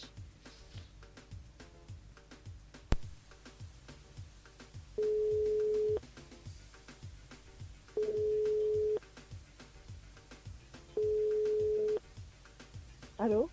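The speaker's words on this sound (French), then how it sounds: "Non, on appelle Audrey, troisième personne ce soir" Telephone busy or ringback tone repeating three times as long, steady one-second beeps at regular intervals, heard while a radio show calls a listener's mobile phone, over a background of music with a rhythmic beat.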